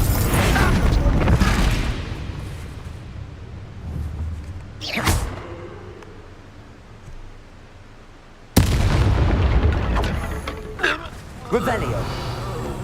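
A Confringo fire spell bursts into a loud, sudden explosive boom, cast in the game Hogwarts Legacy on PS5. Quieter creaking game ambience and occasional thuds come first, and someone talks over the scene.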